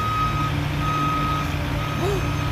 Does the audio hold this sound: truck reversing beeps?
yes